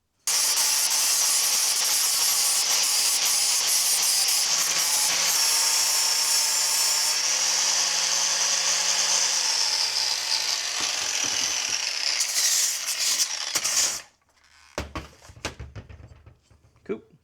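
Close, loud grinder works metal on a custom engine mount for a Ford Model A chassis, a continuous harsh whine that shifts pitch partway through, then cuts off into a few clanks and handling noises.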